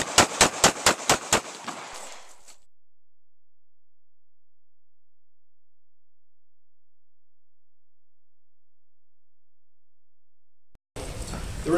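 Gunfire from police firearms training, a rapid string of about eight sharp close shots in quick succession, then a long silence before a burst of noise at the end.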